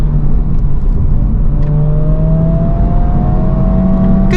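A 2024 Honda Civic Type R accelerates, its engine note climbing steadily under a loud constant road and wind roar heard from inside the cabin, with no talk.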